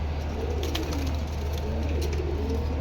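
Caged pigeons at a market coo softly and repeatedly over a constant low rumble of background noise.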